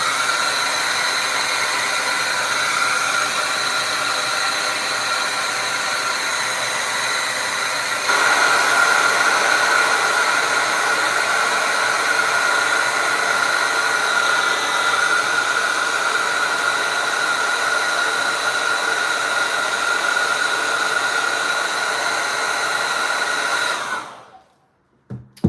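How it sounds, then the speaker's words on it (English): A handheld hair dryer blows to dry wet acrylic paint on a Siamese cat painting, a loud, steady whooshing roar that steps up slightly in intensity partway through, runs continuously alone, then cuts off abruptly. "Now my eyes are still not dry, so I'm going to get my hair dryer, dry them off really quickly."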